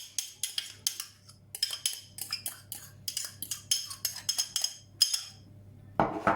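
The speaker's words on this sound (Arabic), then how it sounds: "نخلط كلش مع لا مايونيز هكذا" A utensil mixes egg yolk, onions and black pepper into mayonnaise in a bowl, giving quick repeated clinks and taps against the dish in an irregular rhythm, loud and close, ending with a brief scrape.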